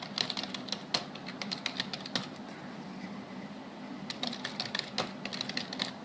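Rapid, uneven bursts of keyboard typing with clustered clicks and brief pauses, close and fairly quiet.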